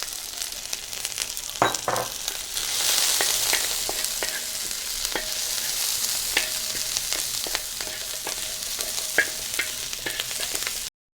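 Ginger, garlic and chopped green chillies frying in a pan for gobi Manchurian, a continuous close sizzle with repeated sharp ladle clicks and scrapes throughout, no talking.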